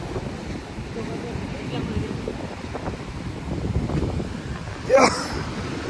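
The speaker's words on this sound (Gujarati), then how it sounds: "મોજા તો જો ઉડી ઉડીને જો આવ્યું" Sea waves wash and splash against the shore in a steady rushing churn with wind buffeting the microphone, and one sharper splash near the end; voices sound faintly in the background.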